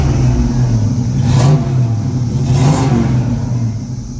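A 1967 Chevrolet Camaro engine revs loudly up close, rising in two distinct surges over a steady idle rumble, with no voices.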